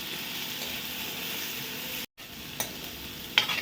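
Slit green chillies and garlic sautéing in oil, a continuous bright sizzle with faint stirring, briefly cut off midway and then resuming, with a couple of light clinks near the end.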